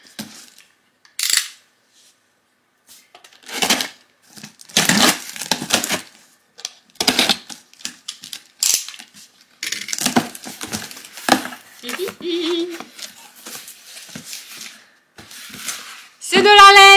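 A parcel of wool from the brand Pingouin is opened, giving scattered crinkling, tearing and rustling of packaging in close, irregular bursts, ending with a brief sharper clatter.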